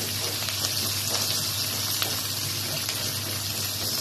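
Onion, garlic and ginger sautéing in a hot pan, with a steady close sizzle and crackle running throughout while a person talks over it.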